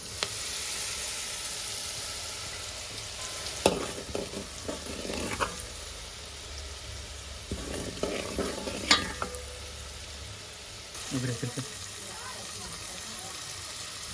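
Onion, ginger, garlic and green chilli frying in a pan, a continuous soft sizzle broken by a few clusters of scraping stirs, with faint background voices at times.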